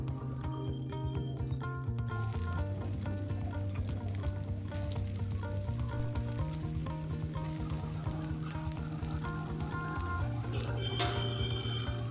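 Soaked soybean chunks fry in hot oil in a wok, giving a continuous close crackling sizzle at an even level throughout. Faint clinks and stirring noises come and go beneath a background tone.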